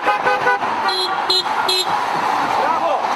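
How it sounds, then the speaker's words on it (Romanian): Car horns toot repeatedly from vehicles on a street during a protest honking action, short bursts over traffic and crowd noise, with people talking nearby. "Dar este un claxon"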